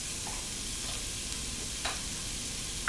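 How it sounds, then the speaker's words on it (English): Zucchini pieces fry in a hot pot with salt, giving a steady close sizzling hiss with a few soft stirring knocks. "So now we're gonna add our zucchinis."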